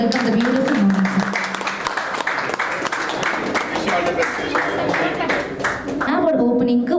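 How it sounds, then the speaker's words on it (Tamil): An audience at a finance company's grand opening in Erode applauds to welcome the director, with dense clapping mixed with a talking voice and crowd noise, continuous and fairly loud before thinning out. "தனம் டிரெக்டர் மிஸ்டர் கோகுல் சார் ஒரு நல்ல கைத்தட்டல் கொடுத்து இன்வைட் பண்ணிடலாம்."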